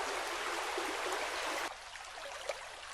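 A stream flows along a hiking trail, a steady, nearby rushing and trickling of water that drops to a quieter babble partway through, with no talking.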